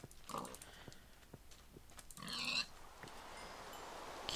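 Minecraft pig oinking in a game world, a short grunting burst near the start and another stronger squeal-like call around the middle, fairly close with quiet ambience between.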